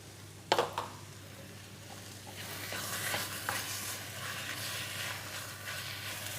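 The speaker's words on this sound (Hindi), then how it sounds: "खोए को भी इसके साथ ही भून ले।" Halwa being roasted with khoya in a pan, with a few sharp scrapes near the start and then a steady soft sizzle and stirring that runs throughout at moderate loudness.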